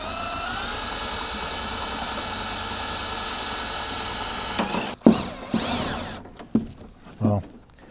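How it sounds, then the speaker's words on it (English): A drill running in reverse to lower the tailgate cable on a square-body Blazer or Jimmy: a steady, close mechanical whine for several seconds, then it stops and gives way to a few loud clunks and rattles. "I'm going to attach my drill to my cable. I'm going to put it on reverse, and then I'll just slowly bring this down"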